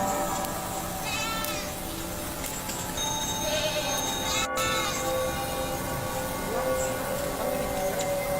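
Goat bleating in an outdoor setting while a strange creature appears to feed off it, with wavering animal calls sounding faintly above steady background noise.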